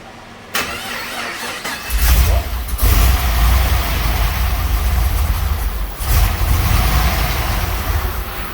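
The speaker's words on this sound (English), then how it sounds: "So we've just got the Senator running." A Holden VE Senator with a turbocharged 404ci LS2 stroker V8 fires up and settles into a loud, steady rumbling idle close by, with a few blips in revs.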